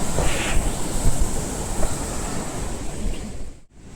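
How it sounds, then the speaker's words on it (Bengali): Strong mountain river current rushing on the Annapurna circuit trail near Chame, a steady loud roaring wash that runs continuously before cutting off abruptly near the end. "কি পরিমাণ স্রোত!"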